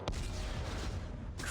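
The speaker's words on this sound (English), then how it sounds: "Computer, arm explosives. And detonate." A heavy explosive blast from Dead Space 3, a dense, loud rumbling roar that holds for over a second after a sharp onset, with a second burst near the end.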